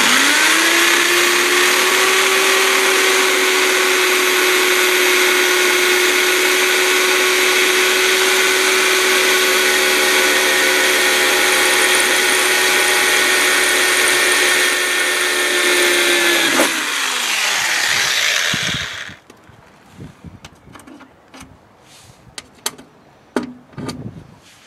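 A power drill bores holes for mounting a car license plate, a loud steady high whine holding for about seventeen seconds before winding down, followed by scattered clicks and clatter.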